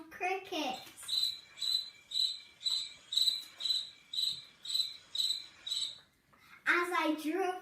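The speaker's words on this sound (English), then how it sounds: "As I drove through the savannah, I could hear the loud crickets." Loud crickets in a savannah chirp in a regular pulsing series, about a dozen evenly spaced bursts, with a voice speaking before and after.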